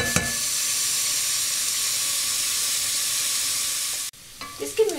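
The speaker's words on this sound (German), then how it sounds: "Das Gemüse ist schon ein bisschen angebraten." Vegetables sizzle and fry steadily in a pan for spaghetti Bolognese, a continuous close hiss with light stirring, then an abrupt drop as the sizzling briefly cuts away near the end.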